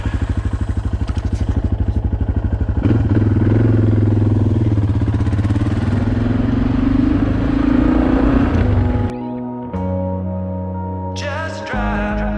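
A Suzuki DR650 dual sport motorcycle rides along a Wisconsin adventure trail, its single-cylinder engine thumping steadily and then revving up strongly, with a drop in pitch and a gear change near the end, heard close and loud.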